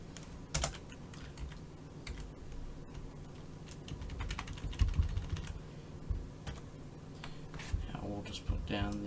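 Quick bursts of typing on a computer keyboard, dense close clicks coming in uneven runs with short pauses, while someone talks over them.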